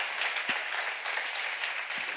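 Audience applause at a church seminar on the Gospel of John, a dense continuous wash of clapping from a sizeable crowd, steady throughout and close.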